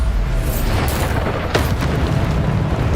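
Bombarda explosion spell cast in the Hogwarts Legacy video game: a dense, sustained booming blast with rumbling low end and a sharper burst midway, loud and continuous throughout with no talk.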